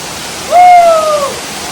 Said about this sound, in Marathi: आता मी जातो हे धबधब्याखाली